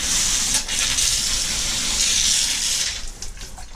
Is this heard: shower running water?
yes